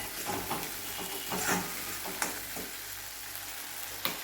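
Choli gravy stirred in a pan as the oil begins to separate, a steady fry hiss with a few scraping spoon strokes, close and moderate, no talk.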